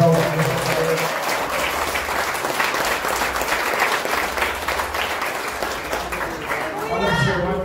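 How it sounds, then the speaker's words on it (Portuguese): A church congregation applauds steadily through the whole stretch, a dense wash of many hands under a faint voice and background music, swelling slightly toward the end. "Você pode aplaudir o Senhor mais alto nessa carreira?"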